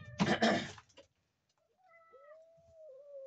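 A short scuffling noise, then a farm cat gives two drawn-out meows close by, the second long and wavering, in an otherwise quiet space.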